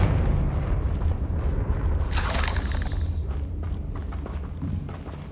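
A Confringo fire spell in the Hogwarts Legacy video game bursts into a sudden loud whooshing blast around the midpoint, set against continuous low game rumble and ambience.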